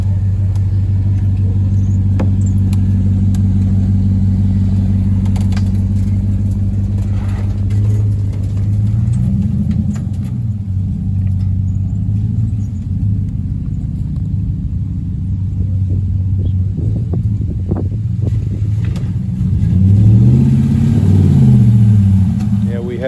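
A V8 off-road vehicle engine rumbles low and loud while climbing a hill, swelling into deeper revs near the end, with occasional knocks and people talking over it.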